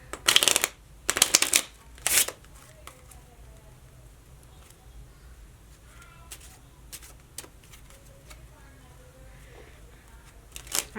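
A deck of cards is riffle-shuffled in a few quick, crisp bursts up close, followed by quieter handling sounds.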